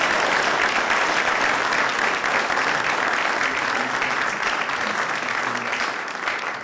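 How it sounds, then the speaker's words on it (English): Audience at a university panel event giving young actors a sustained round of applause, steady and loud dense clapping that fills the room throughout, fading slightly at the very end. "give them another round of applause"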